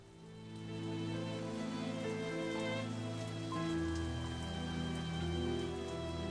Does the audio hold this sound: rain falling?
yes